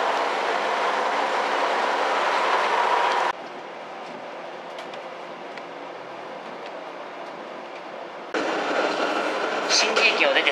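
A JR 381 series limited express Yakumo train runs with a steady rumble and clatter of wheels, heard loud, then muffled in a quieter middle stretch before swelling again, with occasional talk.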